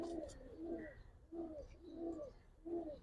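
Giribaz racing pigeons in a loft coo repeatedly, a steady run of about five rolling coos spaced half a second apart, fairly faint but clear.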